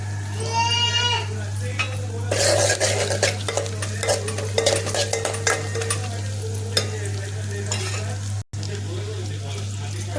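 Four green chillies frying in hot oil alongside onion and dried red chillies in a tempering, a steady sizzle with frequent spoon scrapes and utensil clinks, and a brief voice near the start.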